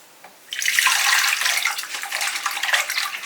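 Water pours steadily into a cooking mixture for fish ambulthiyal in a home kitchen, a continuous bright splashing stream starting abruptly and running close and loud with no talk.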